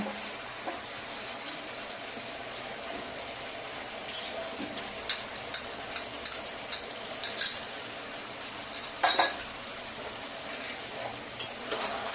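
Salt and ginger paste being stirred into a pot of mutton kacchi biryani, a steady hiss and sizzle with scattered light clinks of the spoon against the pot, a short scraping burst near the end.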